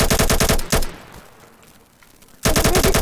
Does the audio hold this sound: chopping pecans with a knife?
no